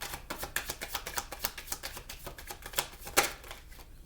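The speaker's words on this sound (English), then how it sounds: "Let's go ahead and pull final cards." Tarot cards being shuffled and pulled from a deck, a quick run of crisp papery flicks and slaps at a steady, slightly uneven rhythm, close and fairly quiet, with no talking.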